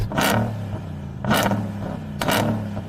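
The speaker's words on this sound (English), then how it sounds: "I'm going to rev up the Mammoth" A Hennessey Mammoth pickup truck engine revs sharply three times in an even rhythm, each burst rising quickly and dropping back to a low idle between.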